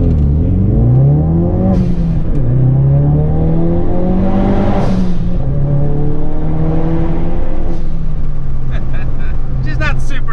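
SEMA-built Ford Focus RS engine revving as it passes under an underpass, with rising and falling engine pitch and sharp blow-off valve hisses, someone talking over the steady drone.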